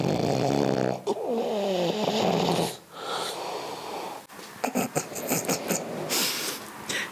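A man snoring at home, with rough rasping inhales and snorting breaths in an uneven rhythm, close and fairly loud, without talk.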